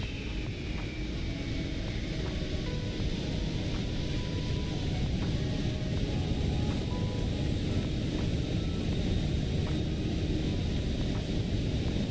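Airbus A380 airliner engines in Microsoft Flight Simulator 2024 drone as a loud, steady broadband roar with a constant high whine, unchanging and uninterrupted, with no talking.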